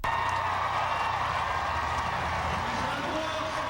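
A large crowd lining the Boston Marathon finish stretch on Boylston Street roars steadily as runners approach, a dense continuous wash of cheering and clapping under a commentator's voice.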